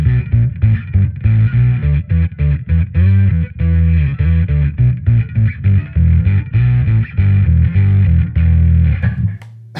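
Bass guitar played through a compact Darkglass rig with heavy distortion, a loud, gritty, saturated tone in a steady run of rhythmic notes and chords that fills nearly ten seconds before cutting off at the end.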